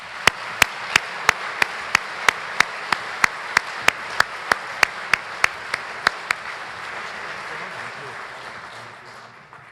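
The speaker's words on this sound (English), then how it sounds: "Please join me in a round of applause for our 2019 presenting sponsors." An audience at a gala dinner applauds sponsors being honored, a steady crowd clapping wash that fades out toward the end, punctuated by a series of sharp, evenly spaced clicks through its first two-thirds.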